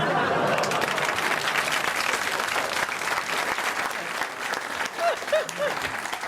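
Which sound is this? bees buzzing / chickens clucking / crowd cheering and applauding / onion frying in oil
crowd cheering and applauding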